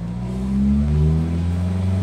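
A car engine climbs from low idle revs as the driver presses the accelerator, a close steady hum that swells louder and rises slightly in pitch before holding.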